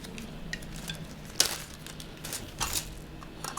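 Plastic beads for a homemade kaleidoscope rattle and clink as they are handled, a few brief sharp clicks over a low steady background.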